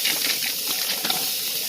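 A gas camp stove burner hisses steadily as it warms up outdoors, a close, even, breathy rush with no talk.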